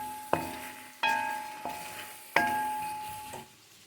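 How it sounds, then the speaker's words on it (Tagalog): Shrimp mixture seasoned with cayenne pepper being stirred, with several distinct ringing metallic clinks of a utensil striking the pan, each decaying slowly, over a faint background hiss. "Mix nyo na. Haluin ninyo."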